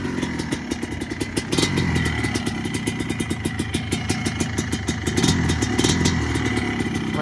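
A Yamaha Blaster ATV engine idling steadily after a restart, a close, loud, rapid single-cylinder putter with small bumps in revs and no voices.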